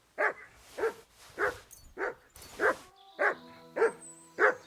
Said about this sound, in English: what he's doing now, where he's just constant bark, bark, bark, bark, bark